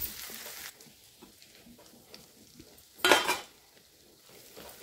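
Masala with homemade black masala and coconut fries in oil, a faint sizzle with light stirring taps and a brief loud scrape of spoon against the pan midway.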